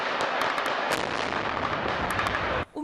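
Rapid gunfire crackles continuously in Mariupol streets on Victory Day, dense overlapping shots and bursts at close to mid range, loud throughout, cutting off briefly near the end.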